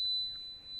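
A steady, thin electronic buzzer tone from an XBee mesh network node, one continuous high pitched beep held alone over faint room hiss.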